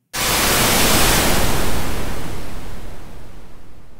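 Loud, broad white noise from a Vital synth wave patch swells in abruptly, then slowly fades and darkens over a few seconds with no voices.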